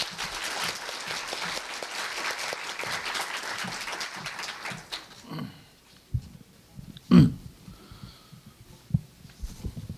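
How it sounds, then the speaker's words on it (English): Conference audience applause at the opening ceremony of Korea University's ARC Conference 2019, a dense steady clapping through the first five seconds that fades out, followed by a few scattered thumps and a brief loud knock. "please welcome Professor Woo-Gyun Lee with a big round of applause."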